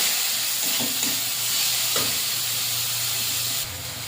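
Spice paste frying in a pan for a Bengali fish dish, a steady close sizzle and hiss with a few soft knocks of a spatula early on, the hiss thinning slightly near the end; no one speaks.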